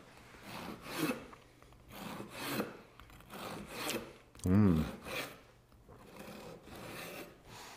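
Serrated knife sawing back and forth through a pistachio-topped Italian flatbread, a series of soft rasping strokes at close range, roughly one per second, with one louder thud partway through.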